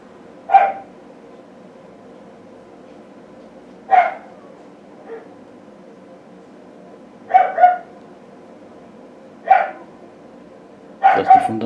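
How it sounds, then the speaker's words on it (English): A dog barking indoors in short single and double barks spaced a few seconds apart, moderately near, over a quiet background. "that's my dog barking"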